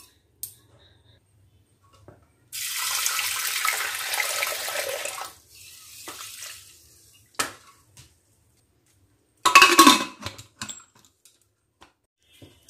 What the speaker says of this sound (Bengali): এবার আমি এটাকে প্রেসার কুকারে নিয়ে ধুয়ে নেব।